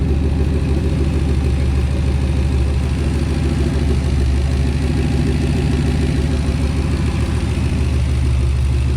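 A 2003 Ford F150 5.4L single-turbo V8 truck engine idles steadily and loudly on first startup, a continuous deep rumble with no revving from start to finish.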